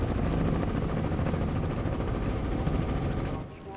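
A Robinson R44 helicopter rotor chops loudly and continuously with rapid thudding beats and engine roar, heard up close from a camera on the tail, tapering slightly at the end.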